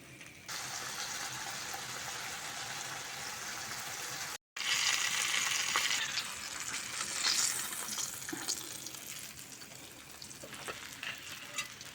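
Silver carp fillet and head pieces fry in a pan with a steady, close, bright sizzle that runs almost throughout, cut by one brief gap, with crackles and a few small clinks later on.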